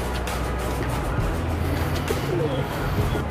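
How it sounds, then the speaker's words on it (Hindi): Domestic pigeons cooing nearby, soft low repeated coos layered over one another, with faint chirps and a distant car hum in the background. "कबूतर आपको दिखाए हैं जी"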